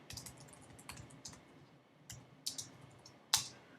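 A computer keyboard clatters with irregular, quiet key clicks, small clusters of taps broken by brief pauses, and one or two sharper strikes near the end.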